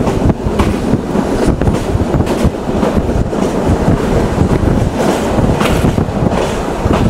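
The Chitra Express rumbles along at night after pulling out of Alamdanga station, a loud continuous roar of wheels and carriages heard from inside the train, with faint clattering and wind buffeting.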